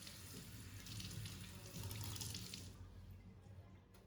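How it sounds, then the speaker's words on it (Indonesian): Running tap water splashes steadily into a sink for a few seconds, hands rubbing in the stream, then the flow eases off. "basuh dengan air mengalir lagi."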